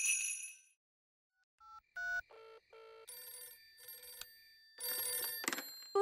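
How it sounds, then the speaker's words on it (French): A cartoon telephone rings with bright, electronic chiming bursts in a stepped pattern, clear and close, alone without talk. "Oui, allô? Madame Elf à l'appareil"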